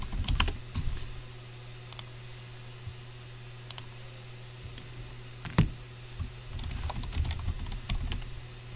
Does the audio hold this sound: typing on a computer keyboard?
yes